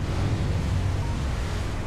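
A spacecraft splashes down into water in a video game deorbit mission, a steady, loud, roaring wash of surf-like rushing water and wind noise that holds evenly from start to finish.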